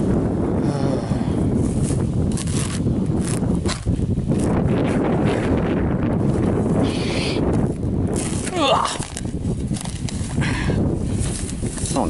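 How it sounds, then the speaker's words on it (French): Strong wind buffets the microphone in an open field while digging, a constant roaring rumble, loud and unbroken, with faint outdoor noises mixed in. "Allez le vent, calme-toi."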